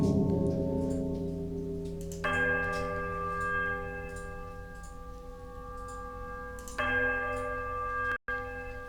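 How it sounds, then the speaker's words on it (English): Synthetic temple bell tones in the video game Pillars of Eternity ring out with sustained, overlapping harmonics, a second louder strike joining midway, ending in an abrupt cut. "a sudden dissonant toll sound from the bell, so loud and piercing that you are compelled to cover your ears"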